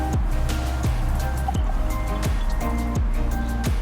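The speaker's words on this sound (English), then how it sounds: "So we're going to add some water." Water poured into a container holding parsley stems, a steady gurgling trickle with repeated glugging pulses, close and fairly loud without talk.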